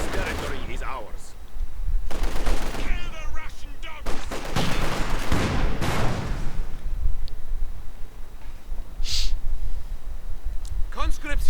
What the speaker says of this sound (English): More submachine guns for Raz and his troops.